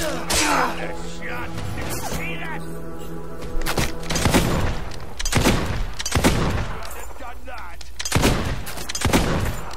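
Gunfire in the video game Fable II, a few loud sharp shots spaced through the stretch, each a hard crack with a short tail, over a low steady game backdrop with a voice talking in between.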